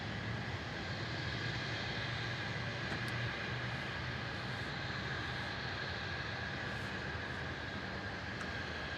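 Qantas flight 479 from Sydney, an airliner arriving at Melbourne Airport, makes a steady, faint, distant broadband roar that holds evenly throughout.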